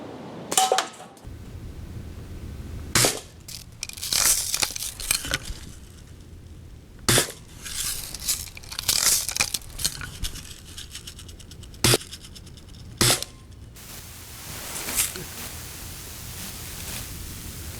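A BB gun fires several sharp, close cracks spread across the stretch, with a rattling shake and the clack of cocking between shots.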